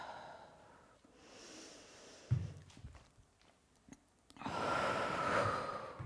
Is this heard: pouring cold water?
no